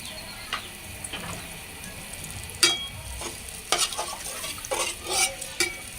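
Beef lung cooks in a pan with water and hot chili, a low steady sizzle broken by sharp scrapes and clacks of a spoon stirring, close and without voices.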